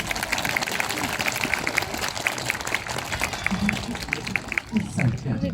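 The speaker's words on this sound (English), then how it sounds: "Give him a round of applause." An audience claps steadily at a seal show at West Midlands Safari Park, a busy, continuous round of applause from a crowd, with a presenter's voice and animal noises over it.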